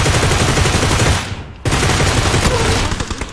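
Groza assault rifle fire in a battle-royale shooter game, a loud sustained burst of rapid shots that breaks off briefly, then resumes at full intensity with no voices over it.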